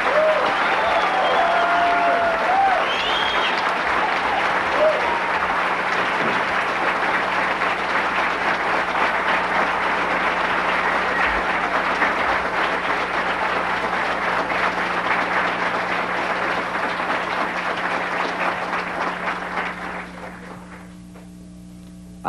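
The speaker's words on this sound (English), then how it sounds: "Everybody, let's give them a big hand" An audience applauds warmly at a masterclass: steady, dense clapping that holds loud and even for about twenty seconds before tapering into quieter room tone.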